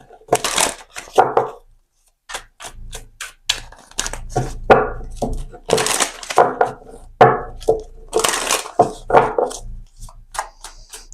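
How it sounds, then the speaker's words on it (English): Tarot cards are shuffled by hand close up in repeated crisp riffling and slapping bursts, separated by short pauses. "I always like to shuffle these cards really nice."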